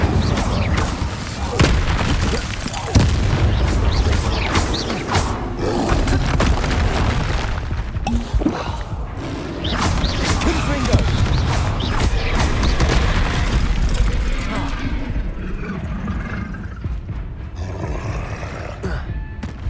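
Spell combat in Hogwarts Legacy, with the Incendio fire spell cast among other spells, a steady dense roar of booms and crackling blasts running continuously at close, loud level with brief bursts throughout.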